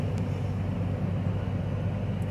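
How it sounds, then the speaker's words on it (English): A steady low roar of an airplane, continuous and fairly loud, with no voices. "This is another airplane that's moving fast."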